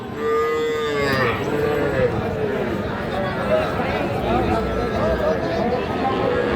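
Several cows, young bulls and heifer calves, moo loudly in drawn-out calls at a cattle market over a busy background of people chattering.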